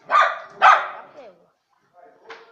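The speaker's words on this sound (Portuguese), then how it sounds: "Galera, esse daqui é meu cachorro, ó." A large dog barks twice in quick succession close by, followed by a softer whine and a small yip, with people talking around it.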